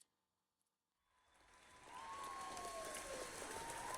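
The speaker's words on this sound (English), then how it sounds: "It looks like they're like cheering." A game crowd's cheering swells up from near silence after a second, then holds as a loud continuous roar of clapping and yelling, with a rising whistle-like tone cutting through.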